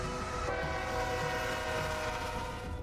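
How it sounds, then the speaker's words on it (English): A freight train on a major line running right through a small town, heard as a loud, sustained rumble with steady horn tones over the passing rail cars, with no talk. "the blaring of a train horn is a staple atmospheric sound here, with a major freight line passing right through town"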